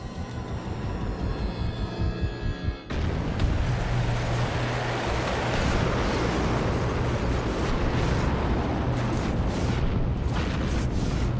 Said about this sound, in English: taking out those artillery cannons quickly is kinda hard without killing everything around it